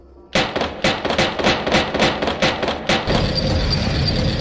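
Gunshots in the video game Injection π23, a rapid series of about eight sharp, loud shots in uneven rhythm, followed by a steady hiss of room ambience.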